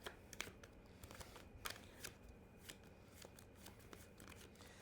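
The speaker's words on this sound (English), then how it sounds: "The shuffle is smooth." Tarot cards are shuffled by hand in a quiet indoor room, making a steady run of soft riffling and sharp flicking bursts. No one speaks.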